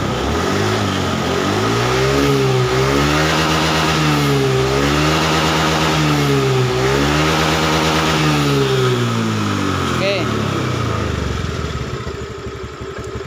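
Honda Beat scooter with a stalling fault after a new battery, engine revved repeatedly in a workshop, rising and falling throttle blips over a steady idle, loud and close, settling down near the end.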